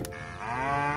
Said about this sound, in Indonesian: lihat teman-teman, ada induk sapi warna kuning